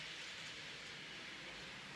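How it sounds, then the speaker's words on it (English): A second-hand model railway train runs on a home layout with a faint, continuous hiss and rumble of wheels on track. The sound is steady and distant, with no talk over it. "As you can hear, there's a train running at this moment in time"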